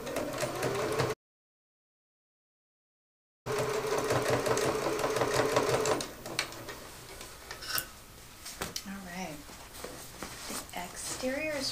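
Home sewing machine running a seam on a commuter tote bag, a steady mechanical whir with ticking needle strokes, broken by a gap and dropping to softer handling noises later, with talking over it.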